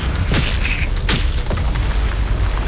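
A Confringo blasting spell exploding in Hogwarts Legacy during a fight: loud, dense rumbling booms with sharp bursts layered over a constant heavy roar of combat noise.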